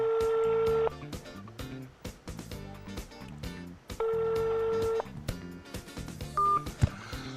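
A telephone call is dialed and fails to connect. Two long steady tones and a string of short dialing beeps play under background music and some voice.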